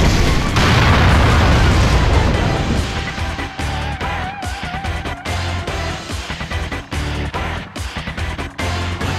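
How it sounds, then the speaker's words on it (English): Big explosion in the video game Naruto Clash of Ninja Revolution 3, a loud, deep rumbling blast that roars for a couple of seconds and then breaks into choppy crackling debris and booms under game music. "It's an explosion!"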